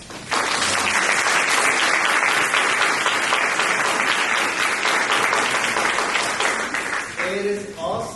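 Loud sustained applause from an audience at an eighth-grade school play, dense clapping that fills the room for about seven seconds before tapering off.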